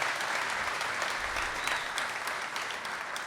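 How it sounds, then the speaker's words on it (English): An audience claps steadily at a climate action event, a moderate, even patter of many hands that fades slightly toward the end. "You could give them a round of applause if you want."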